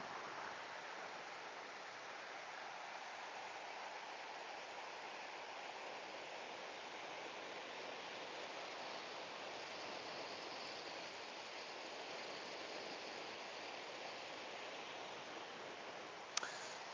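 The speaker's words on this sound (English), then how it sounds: "Yes, that sound of the river is." A river flows through an alpine village in the French Alps, a steady, soft, even rush of water with no change in level throughout, and a single small click near the end.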